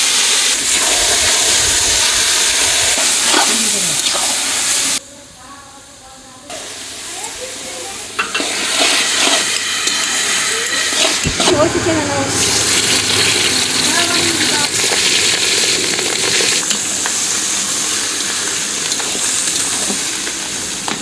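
Taro greens dropped into hot oil tempered with black cumin and dried red chillies, sizzling steadily up close with stirring scrapes, a brief quieter gap, then resuming strong frying hiss.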